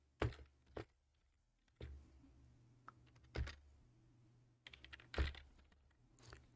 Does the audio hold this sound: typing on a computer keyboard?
yes